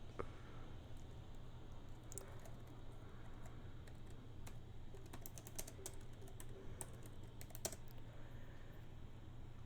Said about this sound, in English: let me type really quick